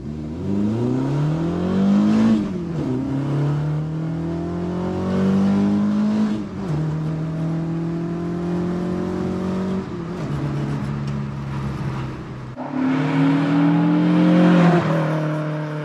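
A classic Ford Mk1 Cortina engine revs up and down several times through the gears, loud and close, rising in pitch with each push and dropping between.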